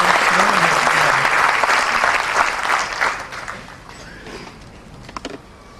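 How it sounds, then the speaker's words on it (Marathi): An audience at a Maratha Seva Sangh gathering breaks into dense, loud clapping that tapers off into scattered claps, with a voice speaking over the start. "तर खरा एकदा टाळ्या वाजवा"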